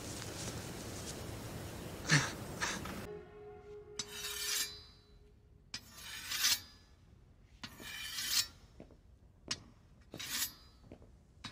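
A blade is rasped along a sharpening surface in several separate strokes with pauses between them, close and fairly faint.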